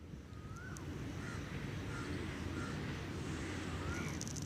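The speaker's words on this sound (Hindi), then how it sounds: "कहीं से कौवे की आवाज़ भी आ रही है" Crows caw faintly in the distance outdoors, several short calls spaced through a steady background hiss of wind and ambient noise.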